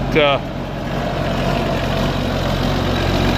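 A John Deere 4430 or 4440 tractor with an injection pump fault sits idling and will not rev, a steady low diesel rumble close by that holds an even pitch, with a brief chirp at the start.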